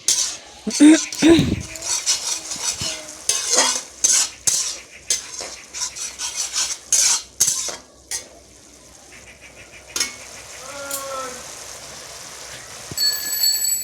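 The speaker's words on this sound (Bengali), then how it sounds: "টক দই দিয়ে একটু মশলাটা কষিয়ে নেবে" Spice paste with sour yogurt being stir-fried in a pan for a doi pabda fish curry, with irregular scraping and clinking of a metal spatula against the pan and a faint sizzle between strokes, louder in bursts, no talk.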